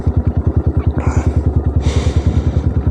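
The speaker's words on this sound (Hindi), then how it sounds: "बिल्कुल ज़ीरो की स्पीड पे ला के मैं बाइक को यहाँ से मोड़ रहा हूँ" A motorcycle idling and creeping through a turn at near-zero speed on a steep mountain track at Thandiani near Abbottabad, its engine thumping in a loud, steady low pulse with brief higher rattles.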